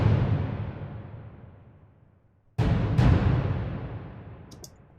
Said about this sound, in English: This is like a low timpani thingy, whatever, with like I EQ'd it so it's a little bit like bass,